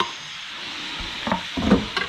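Coarsely diced onion tipped into a hot pan, giving a low steady sizzle that swells with a few scraping stirs and clatters partway through, heard alone without speech.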